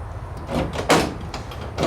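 Latch mechanism on a Pontiac C10 pickup truck door being worked, giving a few separate clunks and rattling clicks, the loudest near the middle and another at the end, with no talking.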